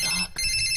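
A mobile phone rings in a Hindi radio drama, a bright electronic tone broken by one short gap before resuming, close and clear with no talk over it.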